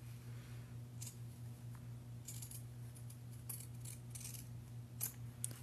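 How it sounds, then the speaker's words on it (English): Pinking shears cut along the edge of a fabric seam. Several crisp snips come in short bursts over a steady low hum, quiet and close, with no talking. "you can take some pinking shears, like so, and you can cut"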